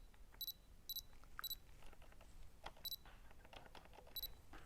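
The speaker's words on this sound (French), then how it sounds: "mon appareil fait un bip bip pour me dire c'est bon" Several short double beeps from a camera confirming focus, spaced about a second apart, faint over a quiet background hiss.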